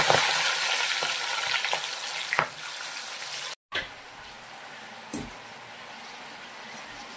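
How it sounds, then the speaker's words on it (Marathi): Green peas are dropped into hot oil and fry with a loud, dense sizzle that eases after a brief break, punctuated by a few close stirring clinks and pops; no voices. "पाहू शकता आता मी हळूच वटाणे सोडत आहे."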